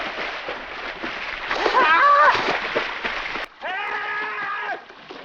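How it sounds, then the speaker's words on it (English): Loud splash of a person falling into a freezing river, a broad watery burst mixed with cries and voices, followed after a brief gap by a second sustained sloshing surge. "there was a sudden loud splash on the water surface, followed by urgent cries for help"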